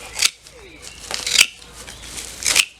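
Sharp secateurs snip through ornamental grass in three quick bursts of crisp cutting, close by, while a voice speaks quietly in between.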